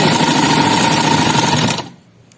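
Sewing machine running steadily as it stitches a long line of gathering on a guddi-cut shalwar with a belt, a close, continuous mechanical whir that stops abruptly near the end, leaving near silence.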